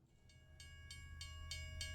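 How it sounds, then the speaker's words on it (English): A train comes along the tracks, its rhythmic clatter of evenly spaced bursts building steadily over a low rumble, with a sustained tone held throughout; no voices. "we hear the sounds of a train approaching, as well as a train whistle going off"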